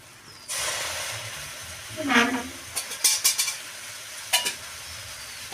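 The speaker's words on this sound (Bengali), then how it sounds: "এখন আমি ভালো করে ভেজে নেব।" Food fries in a hot pan for prawn pulao, a steady loud sizzle starting abruptly, broken by scraping stirs and clatters of the spatula against the pan.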